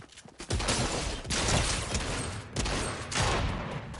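Rapid bursts of video game gunfire, loud and close, coming in dense volleys with short pauses between them.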